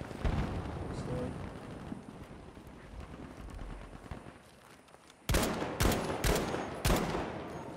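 Gunfire in the Battlefield V video game: a run of four or five sharp, loud shots bursts out near the end, after a stretch of dense, rumbling battle noise.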